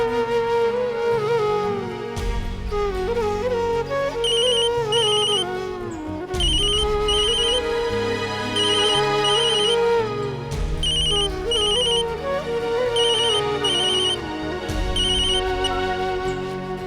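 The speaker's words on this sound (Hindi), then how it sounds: "स्नेहा जी, मैंने आपको फोन किया था" A phone ringtone plays a bright electronic melody that repeats over and over, loud and uninterrupted, with nobody speaking, in the Hindi TV drama Yeh Rishta Kya Kehlata Hai.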